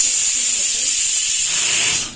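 A pressure cooker of dal vents steam in a loud, steady, continuous hiss that holds for about two seconds and then cuts off, with no talking over it.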